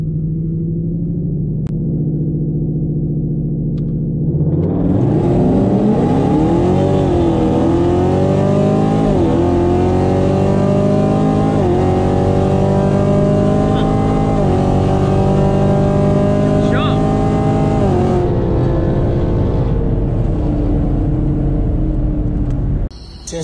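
A 10-speed Camaro SS and a 10-speed Mustang idle at the line for a dig race, then launch with a loud roar that climbs repeatedly through quick gear shifts before easing off.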